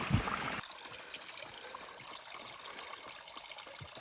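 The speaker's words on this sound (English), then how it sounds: "Hopefully you can hear the water dripping" Water from a mountain stream trickles and drips steadily nearby, a soft continuous splashing with small irregular drops, with no voices.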